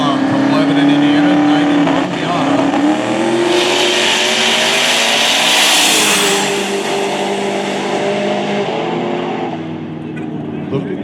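Drag racing cars, including a 1991 Miata and a Fox Body, launch at Lake Cumberland Dragway with a loud, close engine roar that rises and falls as they rev and pull away, while an announcer talks over it.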